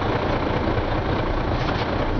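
A 1998 Ford tandem axle grain truck creeping in reverse gear, its engine a steady, loud, low idling rumble that holds unchanged throughout with no voices.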